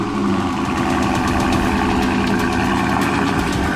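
Ford Shelby GT500 V8 idling loud and close after a cold start at a car show, a dense, steady rumble with faint rhythmic pulsing throughout.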